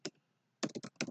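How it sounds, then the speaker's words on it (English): Someone types on a computer keyboard, producing a quick solitary click, a short pause, then a fast run of crisp keystrokes that sound close and fairly quiet. "And I'm going to type"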